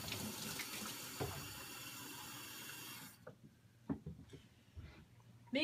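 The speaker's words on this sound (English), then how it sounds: "And then top her off with some water." Tap water fills a baby bottle in a steady rushing stream for about three seconds, then cuts off, leaving quiet handling clicks and small knocks close by.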